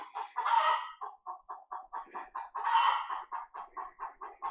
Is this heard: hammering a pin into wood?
no